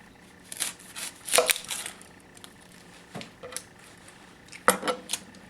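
A knife chops an onion on a cutting board in a few sharp, separate cuts spaced across several seconds, with quiet pauses between them and a couple of louder strikes.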